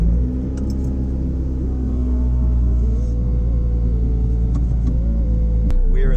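A Honda Civic drives along, its engine and road rumble a loud steady drone from inside the car, with faint rattles and a brief shift in tone near the end.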